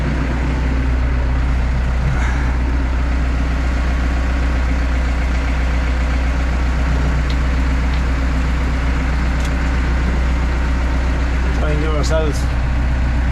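A heavy tractor engine idles with a constant low rumble throughout, close and loud, with faint voices and clinks occasionally rising above it.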